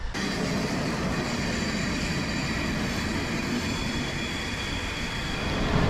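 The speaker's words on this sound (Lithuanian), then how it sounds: "Atvažiavo traukinys iš Budapešto į Terispolį." A train running from Budapest to Terespol pulls in with a steady, loud, broadband rumble of wheels and carriages that holds constant throughout and swells slightly at the end; no voices.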